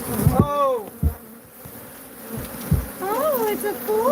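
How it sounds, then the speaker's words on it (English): Bees buzz around a hive full of honeycomb, several insects zipping close past with rising and falling drones, over a few dull thumps and handling noise. "Bees, bees, bees."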